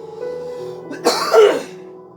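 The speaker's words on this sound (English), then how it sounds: "I keep coughing a lot" A single harsh, close cough bursts out over quiet background game music, loud and rough, then trails off into a throaty exhale.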